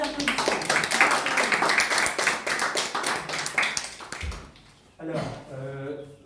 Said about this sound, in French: Donc on donne la parole à Emmanuel, qu'on peut accueillir par nos applaudissements.